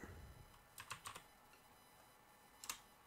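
Faint clicking on a computer keyboard comes in short bursts of a few keystrokes, with pauses between, over a quiet room hiss.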